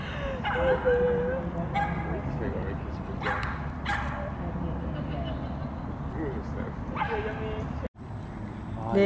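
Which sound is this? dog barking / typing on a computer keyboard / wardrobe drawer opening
dog barking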